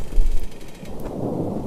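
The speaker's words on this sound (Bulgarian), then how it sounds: "През прозореца се процежда звукът на тихия есенен дъжд." Quiet autumn rain heard through a window as a soft, steady hiss, with a low rumble early on.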